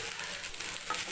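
Food frying in a pan with salt and turmeric and only a little oil is stirred, giving a close, soft scraping and hissing sizzle.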